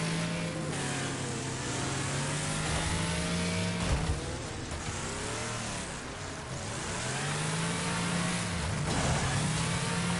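Car engines rev and roar continuously in the demolition racing game Wreckfest, with wavering pitch as vehicles accelerate and slow, loud and dense throughout with occasional impact thuds.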